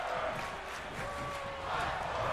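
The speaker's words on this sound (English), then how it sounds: "This crowd now screaming, fight forever." A digital crowd in a pro wrestling video game gives off a brief, continuous wash of screaming and cheering, fairly faint and steady with a slight swell toward the end.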